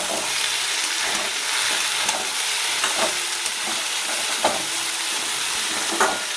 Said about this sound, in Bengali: এবার আলুটা ভাজা হচ্ছে।